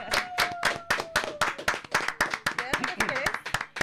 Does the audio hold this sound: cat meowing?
no